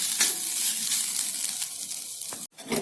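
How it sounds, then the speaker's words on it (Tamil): Grated coconut sautéing in a pan while making konda kadalai (chickpea) kurma, a steady close sizzle with soft scraping stirs, cutting out briefly near the end before resuming. "தேங்காவை நல்லா செவர வதக்கிட்டு காமிக்கிறேன்"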